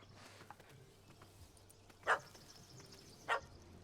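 A dog barks twice in The Witcher 3: Wild Hunt, Hearts of Stone expansion, two short sharp yaps about a second apart, moderately near, over a faint ambient game background with no talking.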